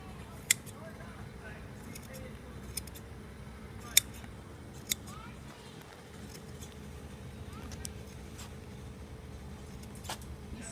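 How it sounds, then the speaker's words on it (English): Hand shears snip through a sheep's wool in small, crisp, irregular clicks over a low, steady background hum, with talk in the clip. "So I try to feel where I'm cutting and keep the scissors like this."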